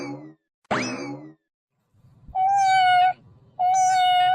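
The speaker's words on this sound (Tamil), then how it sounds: "இந்த பூனைக்குட்டி வேறு சத்தம் போட்டுகிட்டே இருக்கு." A hungry kitten meows loudly and close by: two short cries, a pause, then two longer, drawn-out meows with a steady, high-pitched tone.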